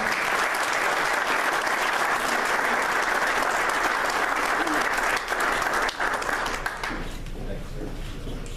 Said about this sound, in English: have a big round of applause for our next inductee